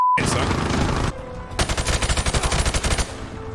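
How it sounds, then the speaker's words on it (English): Gunfire in Modern Warfare Remastered, a dense opening burst followed by a second stretch of rapid, regular automatic shots, loud and close, with game sound filling the gaps. "they seem to be still shooting at me"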